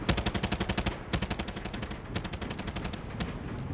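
Automatic machine gun fire in the video game Far Cry 6: long rapid bursts of loud, closely spaced shots in a steady rattling rhythm, briefly pausing before resuming, dense and close with no talk.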